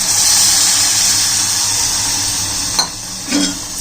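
Water poured into hot masala in a pan for egg bhaji, throwing up a loud, steady hiss of sizzle and steam that eases slightly, with a couple of brief utensil knocks near the end.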